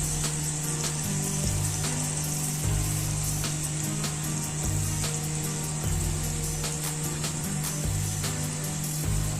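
Tandoori chicken with kasuri methi sizzles in a pan over a low flame, a steady frying hiss with crackling pops and a constant low hum beneath.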